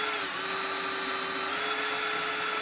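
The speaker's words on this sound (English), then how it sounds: "I think I'll put it down to low speed on the drill" A power drill runs at low speed on a rudder hinge of a model A-6 Intruder, a steady whining hum with a high tonal buzz, close and unbroken for the whole stretch.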